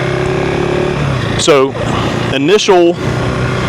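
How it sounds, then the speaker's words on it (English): A 2025 KTM 390 Enduro R fitted with a Coober ECU LM fuel controller, deliberately lugged while pulling out of a yard; two short, strained engine bursts rise in pitch under nearby talking. "I purposely lugged the bike coming out of the yard"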